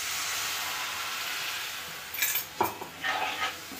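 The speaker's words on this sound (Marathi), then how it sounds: "आता आपण वाटणचं पाणी टाकून घेऊया" Water goes into roasted masala paste in a pan for a brinjal and potato curry, and a steady sizzle rises near the end, broken by sharp stirring and clinks of a utensil against the pan.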